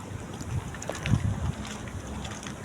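Light wind blows outdoors in Abu Dhabi, a soft low rumble of air with gentle gusts rising and falling against the microphone, with no talk.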